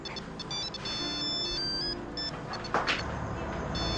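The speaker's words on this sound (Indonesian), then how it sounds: "itu HP Fitri, Tante" A mobile phone plays a melodic electronic ringtone, a loud string of bright beeping notes over background room noise, close by with no speech.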